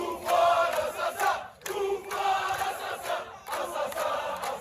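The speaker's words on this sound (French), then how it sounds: "Dès le lendemain, une petite foule se presse devant la prison de Koléa" A small crowd gathered outside Koléa prison, near Algiers, shouts and chants in loud bursts of mixed voices, with brief breaks between swells.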